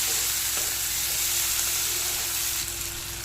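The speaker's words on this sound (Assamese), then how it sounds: "পিঁয়াজটো ৰঙচুৱাকৈ ফ্ৰাই কৰি ল'ম" Chopped onions, three large ones, frying in hot oil for an Assamese banana-soda fish curry, a steady close sizzle with a faint tonal hum underneath, no voices.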